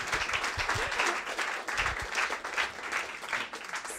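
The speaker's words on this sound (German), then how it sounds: "nochmal einen Applaus." Audience applause at a German conference talk on freedom of information, a dense wash of clapping from a crowd that swells and dips over four seconds, with a few heavier thumps and no clear speech.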